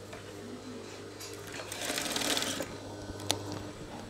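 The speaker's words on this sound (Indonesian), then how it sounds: "Kita potong kerah dengan ukuran yang sama, terus kita jahit." A sewing machine stitches a shirt collar, its steady close mechanical whir swelling louder midway through before easing off, with a single sharp click near the end.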